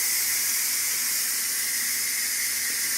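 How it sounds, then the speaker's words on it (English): Steam hisses loudly and continuously from the release valve of a GoWise 12-quart electric pressure cooker, a steady close-up rush with no pauses. "All the steam comes out. Blows out a little bit of water"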